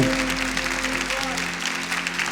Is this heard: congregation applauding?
yes